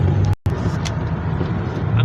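Cars and trucks rolling along a freeway give a continuous roadway rumble and tire noise, with one brief dropout partway through.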